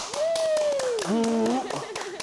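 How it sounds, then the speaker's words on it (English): A few people clapping in a small studio setting, sharp distinct claps in an uneven rhythm, heard under voices that whoop and call out over them. "Now clap it up for Women in Radio."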